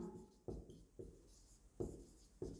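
Chalk or marker strokes on a board as a maths lesson definition is written out, a series of short, distinct scratching taps spaced about half a second apart, close and quiet with no talking.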